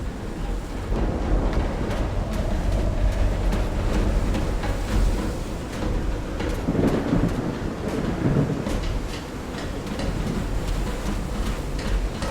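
Stormy thunder in the video game Call of the Sea rolls as a continuous low rumble with steady rain-like hiss and crackling bursts, loud and unbroken throughout.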